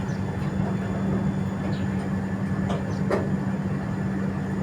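A train rolls past the railway line at Viramgam, Gujarat in a torrential downpour, a continuous heavy rumble blended with dense rain hiss, loud and unbroken, with no talk.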